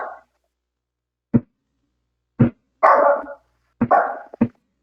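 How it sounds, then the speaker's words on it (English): Several dogs bark in short, separate bursts, some single sharp barks and a couple of rougher, longer ones. They are fairly close and loud, with silence in between. "Now your dogs are barking."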